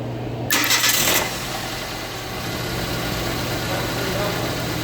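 A car engine starts after a spark plug replacement: a short cranking burst, then the engine catches and settles into a steady, loud idle.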